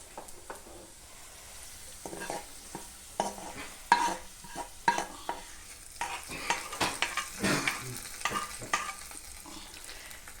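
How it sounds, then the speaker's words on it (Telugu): Freshly fried tempering being stirred into peanut chutney, with a spoon clinking and scraping the bowl in quick uneven strokes over a faint sizzle, close and without talk. "తాలింపైన వీటిని చట్నీలో వేసుకోవాలి"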